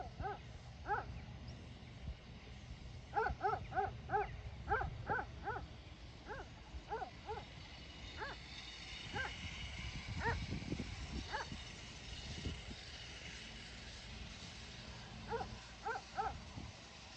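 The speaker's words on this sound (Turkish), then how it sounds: "Köpekler orada havladılar, havladılar, havladılar." Distant dogs bark in repeated quick volleys, faint and echoing, pausing and resuming over a low steady background.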